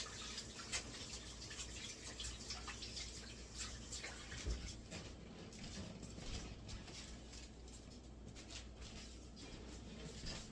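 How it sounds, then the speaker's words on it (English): Running tap water splashes faintly and steadily over hands being washed at a kitchen sink, with small drips and sputters scattered through a quiet, continuous flow. "I'm going to wash my hands real quick."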